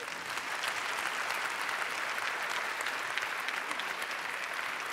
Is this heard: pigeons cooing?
no